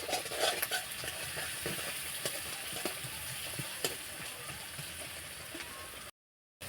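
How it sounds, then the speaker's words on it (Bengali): Onion frying in a pan while being stirred, with a steady, fairly quiet sizzle and repeated light scraping and clinking from the spoon, ending in a brief silence. "ভালোভাবে পেঁয়াজটা ভেজে নেব।"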